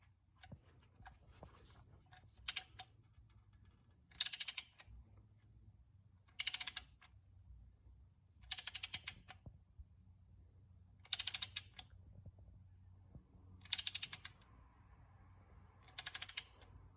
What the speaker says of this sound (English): go incredibly slow but steady on the ratchet because you don't want to compress your piston too fast